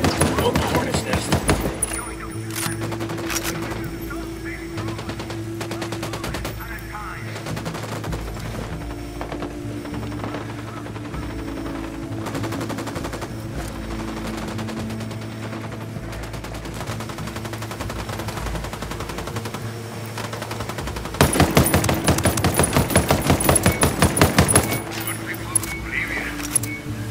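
Squad combat gunfire in a Ghost Recon-style video game, with sustained bursts of automatic weapons and scattered shots over about half a minute. The firing grows louder and denser near the end, and voices are heard at times.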